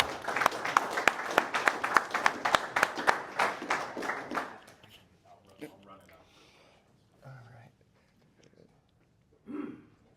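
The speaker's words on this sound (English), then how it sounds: "let's give him a round of applause" An audience at a housing presentation claps in a steady burst of applause for about four seconds, then it fades out, leaving a few scattered sounds and some talking.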